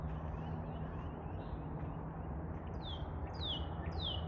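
A bird sings a few short descending chirps, faint and somewhat distant, over a steady low rumbling background of outdoor noise.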